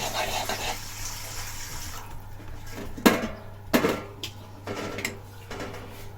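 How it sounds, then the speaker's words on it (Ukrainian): Cold well water runs and splashes into a container, with a few sharp clinks and knocks of metal or dishware partway through. "набираю льодяну воду"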